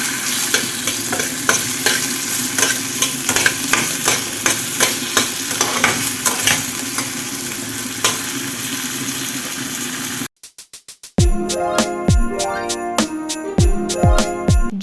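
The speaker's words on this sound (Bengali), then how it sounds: "দিয়ে সব কিছুর সাথে আলুটাকে ভালো করে নেড়ে নিচ্ছি" Potatoes with salt fry in a pan, stirred with a constant loud sizzle and regular scraping strokes; after a brief break, sharper clanks and scrapes against the pan continue, with no voices.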